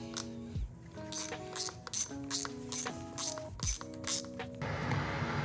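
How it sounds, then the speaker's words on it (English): Metallic ratcheting clicks from a hand tool loosening the carburetor intake boot clamps on a Beta 2-stroke dirt bike, in several short close bursts with pauses between, alone without talk. "we're just gonna loosen these 2 intake boots here and we should get access"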